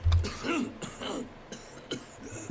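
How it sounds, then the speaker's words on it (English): A game character in Pillars of Eternity 2 coughs a few times and then clears his throat with a gurgling retch, several short, close rasping bursts with quiet gaps between them. "Vatnir nods, coughs, and then clears his throat with a gurgling retch."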